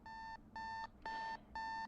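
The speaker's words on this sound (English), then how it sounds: "reach her side table and turn off her alarm" A bedside alarm clock going off, sounding four loud, evenly spaced electronic beeps of steady pitch with short gaps between them, close and alone.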